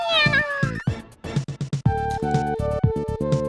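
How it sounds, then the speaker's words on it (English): A character in the Tenchi Muyo! video game gives a series of short, bright cat-like meows when hit, several quick cries in a row alongside game sounds, loud and close. "I really don't understand why this character kind of meows sometimes when it takes damage."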